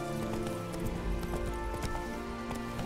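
The horse Roach gallops in The Witcher 3, with a rhythmic clip-clop of hooves over a steady bed of ambient game music.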